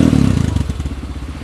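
A Honda XR motorcycle fitted with a Skygo CDI fires up in one press, settling into a close, loud, steady single-cylinder idle with a rapid pulsing thump.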